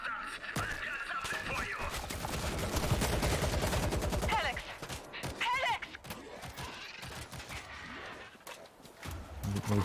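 Gunfire in the zombie shooter World War Z, a dense run of rapid shots building then thinning into scattered cracks and thuds, with voices talking over the fight.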